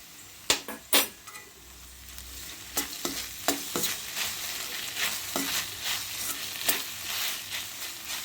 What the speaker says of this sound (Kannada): ಹಸಿ ಸ್ಮೆಲ್ ಹೋಗೋವರೆಗೂ ಚೆನ್ನಾಗಿ ಫ್ರೈ ಮಾಡೋಣ.